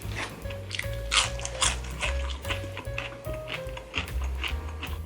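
Crunchy bites into fried chicken sound up close, crisp crackling repeating irregularly over a low steady background hum.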